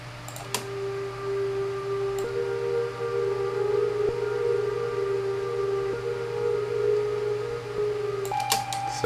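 A slowed, deep flute-like melody holds long sustained tones over a low steady drone, with faint clicks and taps at the start and end.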